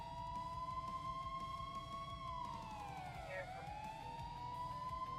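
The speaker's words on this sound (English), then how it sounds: "go ahead, activate your sirens" A police car siren in a roleplay video game, a loud continuous wail that sweeps down in pitch and climbs again, sounding alone over a low engine hum.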